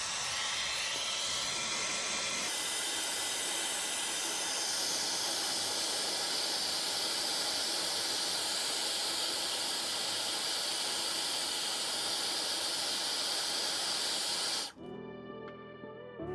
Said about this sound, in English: warm up the display with a hairdryer for about 1 minute.